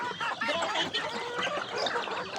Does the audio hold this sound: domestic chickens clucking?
yes